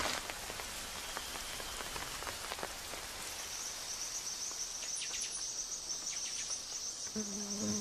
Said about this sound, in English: A light shower forces the men to rest for a day.